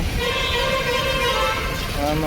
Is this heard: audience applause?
no